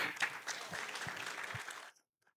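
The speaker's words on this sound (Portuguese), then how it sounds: "Palmas para ele, gente." Audience applause at a university lecture fills the room for about two seconds, dense and steady at moderate distance, then cuts off abruptly into near silence.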